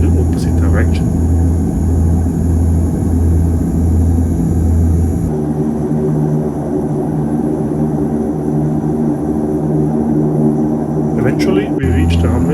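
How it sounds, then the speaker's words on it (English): Soviet-built Antonov 24 turboprop airliner taxiing the length of a runway in Ukraine, heard from inside the cabin as a loud, continuous engine drone and rumble that shifts in tone midway and stays steady throughout. "I do believe, however, that we were taxiing all along the runway to the end"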